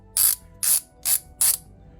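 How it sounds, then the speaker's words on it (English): A Tekton swivel-head ratchet with a 72-tooth mechanism gives four crisp, evenly spaced bursts of fine metallic clicking, close and clear against a quiet background. "teeth ratchet mechanism."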